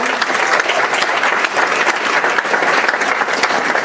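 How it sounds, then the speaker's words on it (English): Sustained applause from a crowd at a school board meeting, dense and steady clapping filling the room without a break. "they get a big round of applause"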